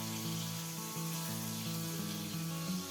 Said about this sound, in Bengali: তাই মিডিয়াম ফ্লেমেই আমি পটলগুলোকে খুব হালকাভাবে একটু ভেজে নেব